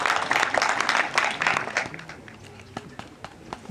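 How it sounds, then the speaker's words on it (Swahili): Applause at a university students association handover ceremony, dense clapping from a crowd that is loudest at first and then thins out into scattered individual claps. "wapigie makofi"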